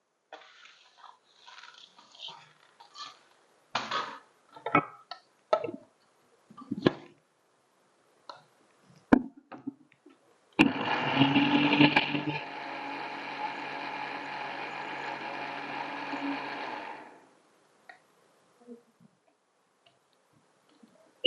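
Light clinks and taps come first, then a kitchen mixer grinder whirs loudly and steadily for about six seconds, grinding roasted black urad dal with dry ginger and cardamom, before stopping abruptly.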